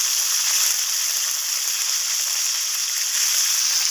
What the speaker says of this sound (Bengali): এখন আমি ফুলকপিগুলোকে ভেজে নিচ্ছি